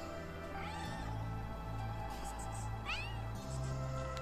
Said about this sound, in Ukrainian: Пішли з нами, киця, мациця.